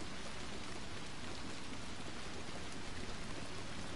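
Steady rain falls in a dark horror video game, a soft continuous hiss of drops with faint patters and no voices.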